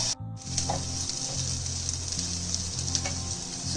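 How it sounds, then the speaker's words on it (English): Onion frying at high heat in a pan gives a steady, close sizzle and hiss throughout, with a low hum underneath and a few faint clinks, and no voices. "So I'm going to fry it at high heat till it becomes a little translucent."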